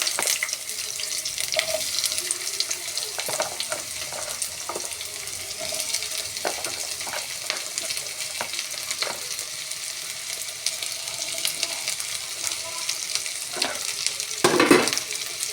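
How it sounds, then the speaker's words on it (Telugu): Thinly sliced onions fry in a little oil for an egg curry, a steady soft sizzle with occasional stirring scrapes and clinks, close by, with a brief louder clatter near the end. "సన్నగా పొడుగా కట్ చేసుకున్నా ఉల్లిపాయలు కొంచెం నూనెలో వేపుకోవాలి"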